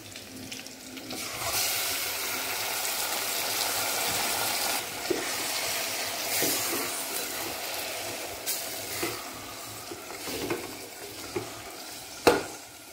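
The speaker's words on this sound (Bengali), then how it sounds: "মাংসটাকে আমি ভালো করে কষিয়ে নেব।" Marinated mutton frying and being stirred in a pan, a steady sizzling wash with scattered scrapes and knocks of a utensil against the pan, fairly close and continuous.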